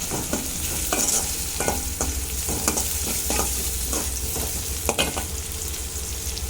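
Shredded cabbage and carrot sautéing in a pan with cinnamon, chillies and curry leaves, a close continuous sizzle broken by repeated sharp scrapes and taps of a spoon stirring at an uneven rhythm.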